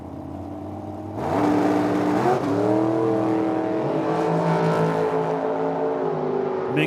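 A little roadster blasts off at a drag race, the loud engine snapping to full throttle and holding a strong, rising roar through several quick shifts.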